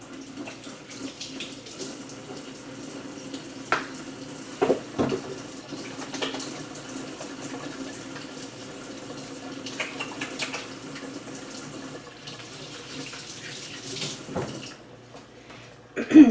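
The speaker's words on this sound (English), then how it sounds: "Let me just rinse my hands off." A kitchen tap runs into a sink as hands are rinsed after preparing a squash casserole, a soft steady water stream with occasional splashes and clunks, fairly quiet.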